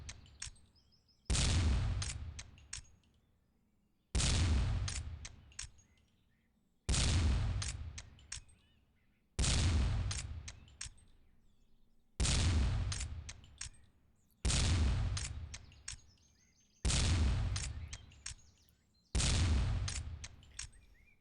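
Shotgun blasts at a skeet shooting tournament, eight loud sharp reports at a steady pace about every two to three seconds, each trailing off into a ringing decay with short quiet gaps between.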